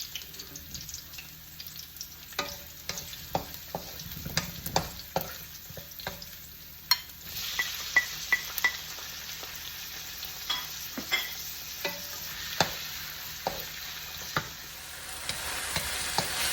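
Onion and tomato sautéed together in a pan, a soft continuous sizzle broken by irregular spatula scrapes and taps, fairly quiet and close, with a brief rush of running water partway through.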